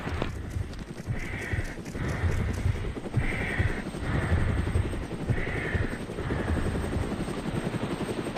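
A military helicopter in Arma Cold War Assault drones with a loud, steady rotor thrum throughout, with no talking.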